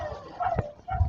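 A dog whimpering and crying during a flood, with several short high whines and yips in quick succession, close and fairly clear over faint rain-like background noise.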